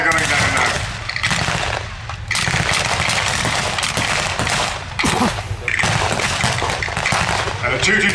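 Bursts of gunfire and machine-gun rattle roar across a Tank Fest battle display, loud and dense with brief lulls between volleys, while a commentator talks over the shooting.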